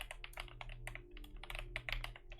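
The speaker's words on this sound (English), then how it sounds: "I really love the sound of this keyboard" Fingers type steadily on a computer keyboard with a soft, creamy sound, the rapid muffled keystrokes close and quiet over a faint low hum, with no talking.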